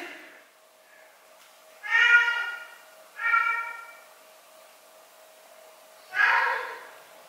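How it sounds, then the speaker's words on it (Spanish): Three clear, drawn-out meows from a cat somewhere downstairs in a house, fairly loud and separated by a second or more of near silence, with a faint voice early on. "Parece que hay un gato abajo."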